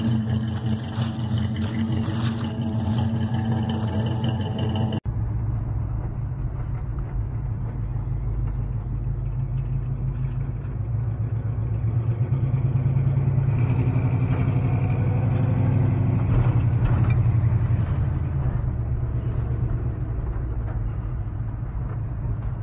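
A Ram pickup truck with a five-speed gearbox runs its engine, giving a steady, close, deep rumble that holds evenly for most of the stretch, with no talking over it.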